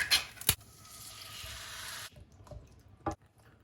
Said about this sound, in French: Je rajoute alors, une fois que tout est plutôt cuit, la sauce tomate